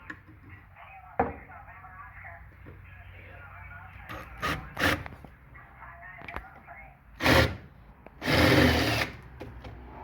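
A hand drill cuts into metal lubricated with cutting oil, a low steady whir with several louder, harsher bursts of bit grinding, close by, and someone talks at intervals.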